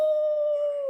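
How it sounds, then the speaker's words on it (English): A wolf howling sound effect plays during a table read of Bram Stoker's Dracula. One loud, smooth, sustained howl holds a nearly steady tone and sags slightly at the end, heard alone without speech. "The wolves howl closer."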